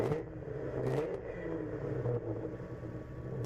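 A 901 Motorsport race car engine in the pit at the VIR 24-hour ChampCar endurance race, revving in short bursts at a moderate distance over a low mechanical rumble.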